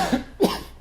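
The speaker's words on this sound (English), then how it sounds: "And I was sick, and I've still got a cough." A person who has been sick coughs twice in quick succession, fairly close and alone, with a short gap between the two dry bursts.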